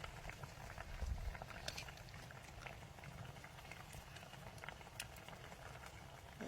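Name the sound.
pot boiling on a wood-fired stove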